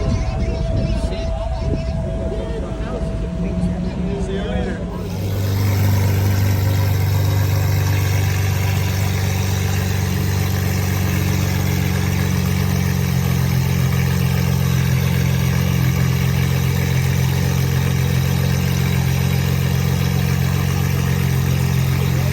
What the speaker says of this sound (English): 30 straight seconds of revving